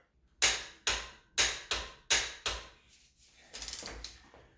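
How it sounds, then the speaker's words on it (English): A torque tool on a flex bar tightens the head of a Honda B18B1 engine on a Civic/CRX, giving about six sharp separate clicks and then a quick rattling ratchet burst, close and distinct in a quiet shop. "to torque it down, I'm going to be using this tool hooked onto a flex bar"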